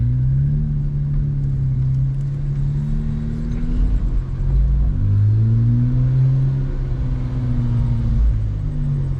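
A Nissan Z's engine burbles while the car is driven at night, a loud low rumble with rising and falling pitch sweeps as it accelerates, steady throughout with no talking.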